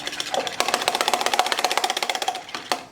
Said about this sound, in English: put that in my bowl, and then I just want you to whisk this